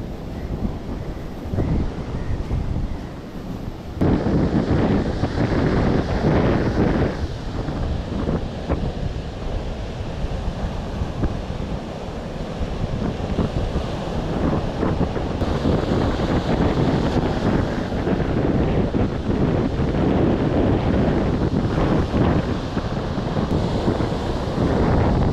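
Rough sea waves pound the shore during heavy, unrelenting rain, forming a loud, continuous roar with wind buffeting the microphone throughout and no voices.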